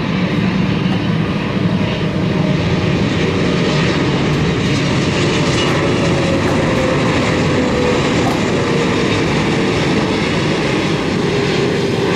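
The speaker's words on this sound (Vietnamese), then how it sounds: "Và bây giờ chiếc máy bay hạ cánh xuống đường băng 25 phải." A Qatar Airways Cargo Boeing 777 lands on runway 25R, its engines a loud, continuous roar that fills the entire span without pause and without voices.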